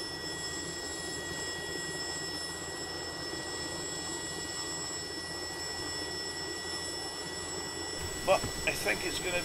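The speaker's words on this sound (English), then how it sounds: "A really nice little helicopter now." SA-315B Lama helicopter engine in FlightGear, a steady droning whine with sustained tonal hums that holds evenly throughout, then brief knocks and shifts near the end.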